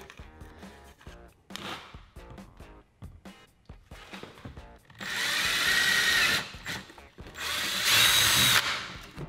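A power drill bores a hole in ABS plastic, with scattered handling clicks and taps first, then two loud sustained whirring runs of the bit, each lasting a couple of seconds, close up.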